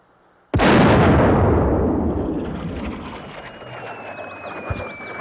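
A single cannon blast in a film about the Alamo, set in 1836, booms loudly and close, then rolls off in a long fading rumble.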